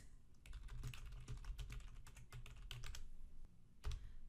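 Keys clatter on a computer keyboard as text is typed into Blueprint software, a fast, irregular run of close, quiet clicks with brief pauses between bursts.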